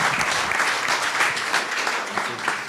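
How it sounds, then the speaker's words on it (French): Conference audience in Paris applauding a deputy after his talk, a steady dense clapping that holds at even loudness throughout with a little talk mixed in. "Je crois qu'on peut vous applaudir."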